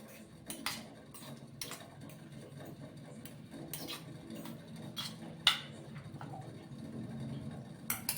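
A spoon scraping and clinking in a bowl while stirring garlic carrot pickle in raw groundnut oil, irregular close knocks and rubs with a few sharper clanks.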